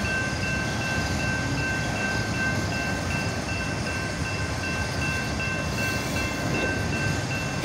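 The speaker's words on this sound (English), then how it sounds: "I wonder how many train cars this NS-121 is gonna have." A Norfolk Southern freight train rumbles steadily past nearby, a continuous loud rolling roar of rail cars with no voices.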